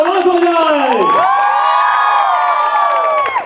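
A loud crowd cheers, whoops and shouts at a dance academy's annual function, the sustained roar with children's voices rising and swelling throughout.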